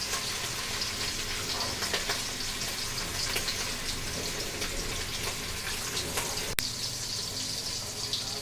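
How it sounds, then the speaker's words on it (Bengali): Pieces of hilsa fish fry in hot oil in a pan, a steady hiss and crackle with a broad sizzling wash that continues evenly throughout, with one sharp pop near the end. "এইভাবে আমি প্রত্যেকটি মাছ ভেজে নেব।"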